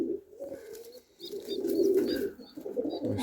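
Young pigeons (squabs) in a loft in -14 degree frost give soft, low, close cooing calls in short bursts, with a few faint higher chirps between.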